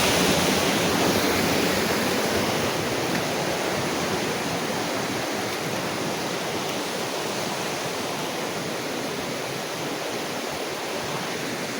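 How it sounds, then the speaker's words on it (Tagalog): Loud, rushing water current roaring steadily and close, a dense broadband wash that barely varies throughout, with no voices heard. "kasi malakas ng alon ng tubig. Ang agos ng tubig ko."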